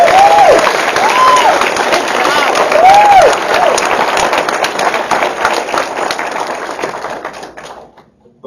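Audience applause at a congressional candidate debate, a loud burst of clapping that fills the room and slowly dies away over several seconds, with a few voices mixed in.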